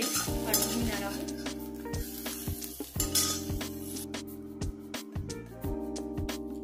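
Green chillies stir-fried in oil in a kadhai, with steady sizzling and repeated scraping and clinking of a spatula against the metal pan, close and alone.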